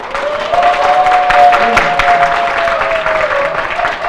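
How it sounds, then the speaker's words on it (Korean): An audience at a business presentation applauds loudly and steadily, dense clapping filling the room, with a faint sustained tone running underneath. "크게 박수 쳐주세요"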